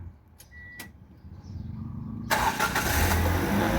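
A car engine cranks and catches on a third start attempt on a cold morning, with a loud knocking clatter from the front of the engine; faint clicks come first, then a sudden, steady, close engine roar.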